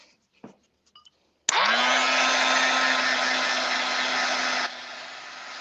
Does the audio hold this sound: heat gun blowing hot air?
yes